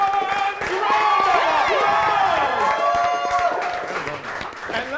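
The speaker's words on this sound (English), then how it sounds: "And our Champions. Round" Live audience at a fantasy role-play show clapping for the Champions, a full burst of applause with cheers and shouts rising early then easing slightly toward the end.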